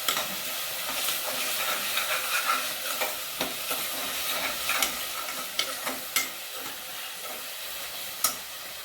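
Ginger, garlic and green chillies sizzle steadily in hot oil while a spoon stirs and scrapes the pan, with sharp clinks standing out over the continuous frying hiss, close and alone.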